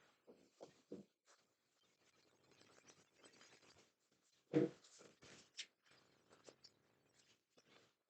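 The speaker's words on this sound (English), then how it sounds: "I just really want to shuffle them good, so one more time." Tarot cards being shuffled by hand, giving soft, faint scratchy slides and papery taps in irregular bursts, with one louder riffle about halfway through, in a quiet room.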